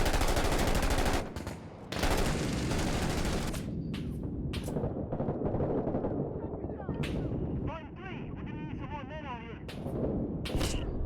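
Gunfire in the video game Six Days in Fallujah, used as suppressive fire: loud, dense bursts of shots that break off and return, with someone talking over the firing.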